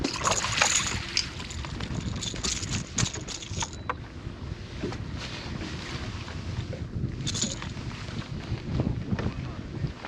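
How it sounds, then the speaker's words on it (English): Steady wind buffets the microphone outdoors on open water from a boat on a fishing trip, a continuous rushing roar with some water and engine rumble underneath, while people talk faintly in the background. "You can hear the wind still just getting it here"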